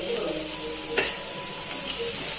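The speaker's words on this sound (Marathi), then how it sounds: "आता ही आलं लसणाची पेस्ट घालते" Ginger garlic paste fries with softened onions in a pan, a close, loud, continuous sizzle with a brief stirring scrape in the middle and no voices.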